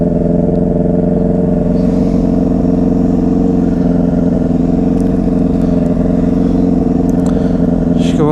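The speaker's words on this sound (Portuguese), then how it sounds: "a moto muito acelerada" A motorcycle engine revs hard and steadily up close, a loud continuous roar with a rattling edge, from a motorcycle making a strange noise.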